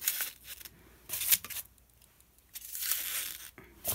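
Metal scissors are slid into a handmade decorative scissor holder one pair after another, making short scraping, rustling bursts separated by quiet gaps, close and fairly soft.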